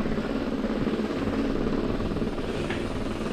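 Rumbling ride over a corrugated sheet-metal floor inside a dark tunnel, a dense continuous low roar and rattle with fluttering texture, steady and fairly close, no voices.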